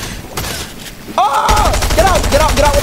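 Rapid bursts of gunfire crackle during a video game arena match while a player's voice groans and exclaims over the shooting.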